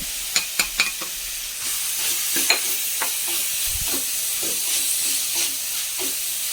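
Spice powders (pepper, turmeric, masala and chilli powder) are sautéed in a pan for samosa filling, with a steady close sizzle broken by sharp stirring clicks and scrapes against the pan, no voices.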